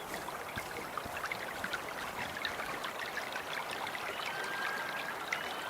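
Creek water flowing in the hunting game Way of the Hunter 2, a steady broadband rushing and trickling wash with scattered small splashes, continuous and fairly soft throughout with no voices.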